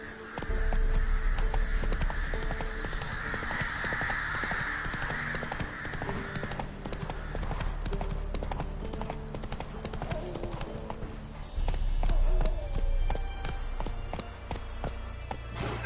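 Roach, the horse from The Witcher, gallops in a long run of steady, rapid hoofbeats with outdoor ambience and faint bird caws, while voices speak intermittently over the hooves.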